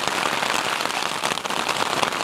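Rain drums steadily on the fabric of a Ringsteam 2 Superlight tent, a dense, close patter of countless drops with no pause, heard from inside.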